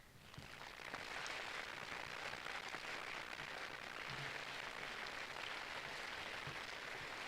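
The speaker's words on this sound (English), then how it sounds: "round of applause." Audience at a middle and high school Veterans Day assembly applauding the veterans, a steady sustained wash of many hands clapping from a crowded room, soft and even throughout.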